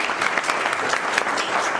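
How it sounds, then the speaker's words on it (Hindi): Steady applause from an audience at an office opening ceremony, a dense wash of clapping hands that holds at an even level throughout, with no talking. "आपकी भरपूर तालियों में द वन एंड ओनली हमारी कंपनी के सीईओ सर"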